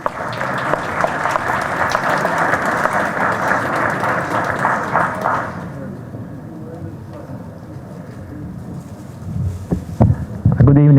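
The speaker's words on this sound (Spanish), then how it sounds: "Aplausos para el ingeniero Monda." Audience applause in a conference hall for an engineer invited to the stage, a dense steady clapping that holds for about five seconds and then fades out, leaving room noise and the start of a man's speech near the end.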